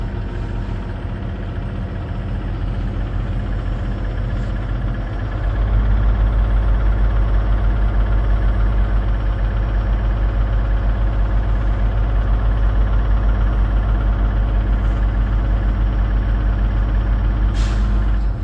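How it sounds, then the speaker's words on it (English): A Volvo truck engine idles, then revs up sharply around five seconds and holds a loud, steady high-idle drone to build air brake pressure, with a brief air hiss near the end; no one speaks. "So I'm gonna rev it up until I hear the governor comes in."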